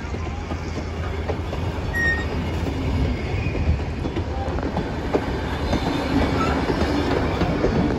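A diesel train rumbling past close by on railway tracks, a loud steady roar with wheel clatter and faint squeals throughout, no talking.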